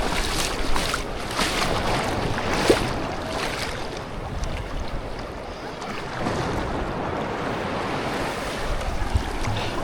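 Sea waves crash and wash continuously while wind roars across the microphone, loud and steady with no voices.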